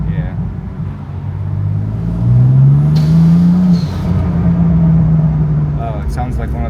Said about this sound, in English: it sounds like one of the pipes came off